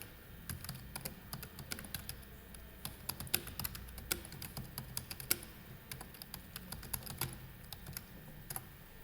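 Quiet, steady typing on a computer keyboard, entering text into a Microsoft Word document. Fast, irregular keystrokes click continuously over a soft background hiss.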